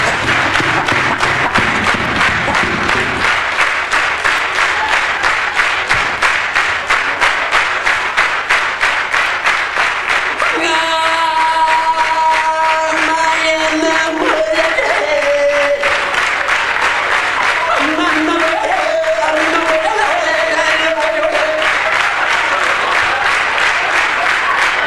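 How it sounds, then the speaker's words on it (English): An audience at a Jim Carrey stand-up comedy show claps hands in a loud, steady rhythm throughout, with a few sustained musical notes sounding over the middle stretch. "Come on, clap your hands, I'll do one last song."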